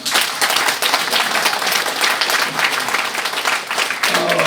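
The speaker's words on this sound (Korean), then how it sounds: "이건 정말 박수 쳐야 됩니다" Dense, sustained applause from a large audience at a Korean political rally, loud and continuous throughout with no pause.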